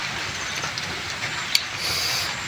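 Steady rain falls outdoors during a snail-grilling meal, a continuous soft hiss with one brief sharp tick partway through and no talking.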